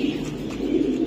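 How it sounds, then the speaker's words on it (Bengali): A Janssen-bloodline racing pigeon hen coos in a low, steady, rolling murmur close by, continuous and moderately loud, with no talk over it. "এটা হলো ওই যে জেনসন আমরা করি না, এই জেনসন ব্লাডের কবুতর"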